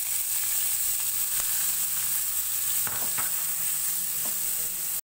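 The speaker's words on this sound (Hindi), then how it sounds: "प्याज को ऑयल में फ्राई करेंगे" Medium onion, cut for an aloo methi, frying in oil in a pan, a steady close sizzle with a few spatula taps and stirs, cutting off abruptly at the end.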